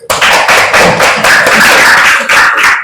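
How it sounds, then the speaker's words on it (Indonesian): A classroom of students claps hands together, a loud, dense burst of many overlapping claps sustained from start to finish, close by and with no talking. "Terima kasih, boleh tepuk tangan dulu nak."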